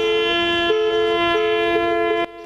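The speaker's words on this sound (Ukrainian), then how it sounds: "Під супровід автомобільних клаксонів група ветеранів АТО рушила до районної адміністрації." Car horns sounding as a group of ATO veterans sets off toward a district administration building: steady sustained tones that pulse in repeated long blasts, loud and continuous before cutting off abruptly near the end.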